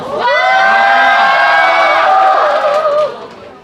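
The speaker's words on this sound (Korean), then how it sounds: "환호성 한번." Students cheer and shout together in a school chapel service, a loud sustained burst of high whooping voices that swells for about three seconds and then fades.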